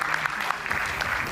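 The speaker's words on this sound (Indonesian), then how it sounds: "Kita berikan tepuk tangan untuk Bung Sylvester Matutina." A studio audience applauds, a dense burst of steady clapping filling the short moment at a political talk show.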